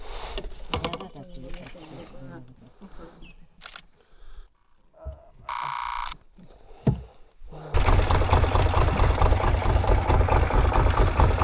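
A boat motor idles on a Sundarbans river trip, first faint under people talking, then a loud, steady, close rumble that fills the second half.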